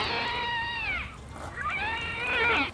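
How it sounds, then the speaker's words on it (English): Two cats fight and yowl nearby, with drawn-out, wavering howls that rise and fall loudly, one long cry followed by a pause and then another rising caterwaul. "Cat fight."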